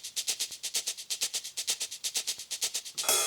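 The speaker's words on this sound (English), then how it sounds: "And then some shakers." Shakers in an electronic music production loop, a bright rapid rhythmic pattern of hissy shuffling pulses at an even tempo, alone, ending with a brief burst of noisy texture.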